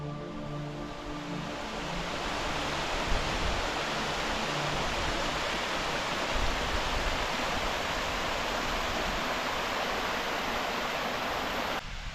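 Waterfalls pour down a rocky gill in the Lake District fells near Eskdale, making a dense, continuous roar of rushing water that stays loud and steady throughout.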